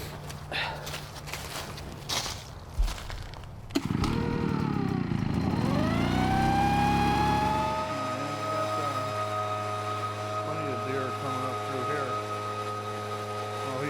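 A small two-stroke blower engine at a hunting spot in the woods cranks and catches at about four seconds, then revs loudly and settles into a steady, close running drone, with footsteps and handling noises before it starts.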